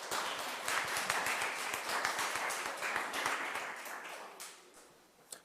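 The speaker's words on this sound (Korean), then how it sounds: "큰 박수로" An audience at an architecture lecture gives a welcoming round of applause, a soft, dense wash of many hands clapping that tapers off toward the end.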